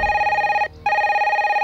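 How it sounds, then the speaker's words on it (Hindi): A telephone bell rings in loud, steady trilling bursts, one ring cut by a short pause before ringing again, with no speech over it. "जब भी इस फोन की घंटी बजती है मेरी घंटी बजने लगती है सर"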